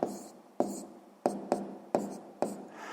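A pen writes out the answer to a sixth-grade math exercise, with six sharp taps of the tip against paper followed by short scratchy strokes, each fading before the next, close and clear.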